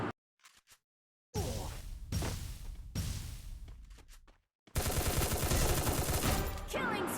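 Gunfire in the mobile shooter Free Fire comes as several sharp bursts, a few short volleys and then a dense sustained stretch of rapid shots near the end, with no talk over it.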